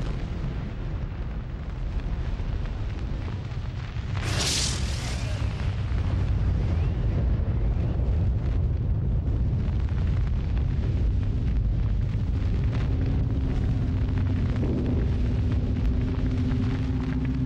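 A nuclear bomb test blast is heard as a long, heavy, continuous roar and rumble, with a brief sharp burst partway through, loud and sustained throughout with no talk.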